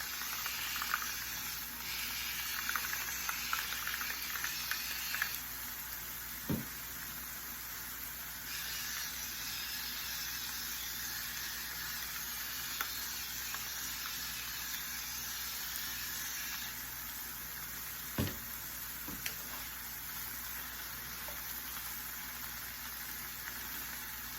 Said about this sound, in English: After 1 minute of letting these onions and peppers sweat